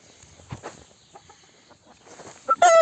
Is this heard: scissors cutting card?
no